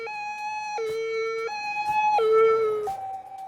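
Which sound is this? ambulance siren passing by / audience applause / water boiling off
ambulance siren passing by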